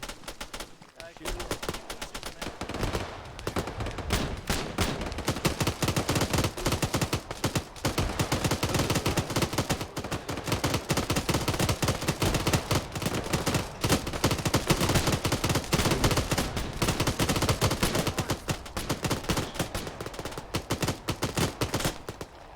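Dense, sustained gunfire from Arma 3 rattles almost nonstop for over twenty seconds, loud rapid bursts and overlapping shots layered together with no pauses.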